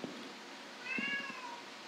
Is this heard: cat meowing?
yes